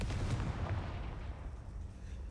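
Confringo fire spell explosions in Hogwarts Legacy, heard as a dull booming burst that fades into a rumbling tail.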